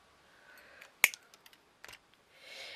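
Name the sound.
cutting craft pieces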